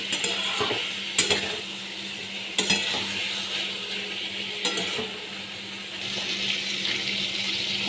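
A spoon stirs turmeric into ridge gourd and potato frying in a pan, with a constant sizzle underneath and a few sharp metallic scrapes and clacks against the pan at irregular intervals.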